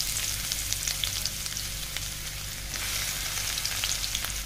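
Finely chopped onion frying in a pan, a steady close sizzle with fine crackling pops running throughout without any talk.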